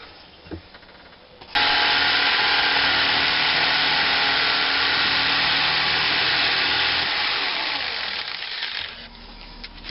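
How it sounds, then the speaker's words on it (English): A jigsaw cuts out wooden katana halves: after a faint click, the motor starts with a loud, steady buzzing rasp that runs unbroken for about eight seconds, close and alone, then winds down. "The jigsaw, the good old jigsaw."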